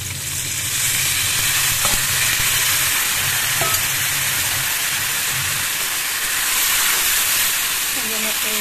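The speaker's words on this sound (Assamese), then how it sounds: "ইয়াতে অলপ পানী দিম" Fish curry with sponge gourd sizzling and frying loudly in a pan as water goes in, a steady hissing steam that holds nearly constant throughout, with faint stirring clinks.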